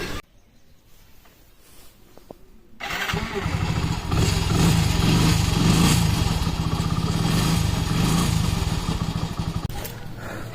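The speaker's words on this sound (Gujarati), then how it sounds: "અને આ બાઇક ચાલુ થઈ ગઈ છે" A motorbike starts up on the road after quiet moments with faint knocks, then settles into a loud, steady, close engine chug that runs on for several seconds.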